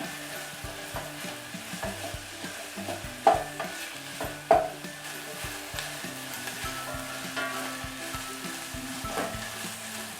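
Onion sautéing over lowered heat in a pan for stuffed eggplant, a soft continuous sizzle under repeated stirring scrapes and two sharper clinks of a spoon against the pan, close and without speech.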